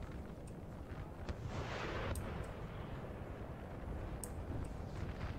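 Distant artillery fire in a Napoleon Total War multiplayer battle between France and Russia, low rumbling booms and scattered reports under steady wind-like battlefield ambience.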